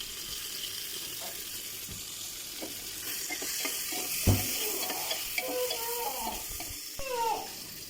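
Bay leaf frying in a little hot oil for a vegetarian cabbage curry gives a continuous crackling sizzle, with scattered clinks and stirring knocks near the pan toward the end.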